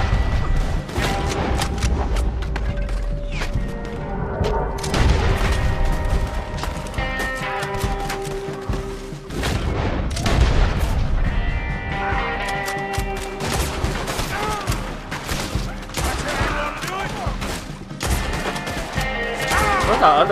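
Rifle gunfire from the video game Red Dead Redemption 2 rings out in repeated sharp shots and bursts across the whole stretch, layered over dense in-game effects and background music.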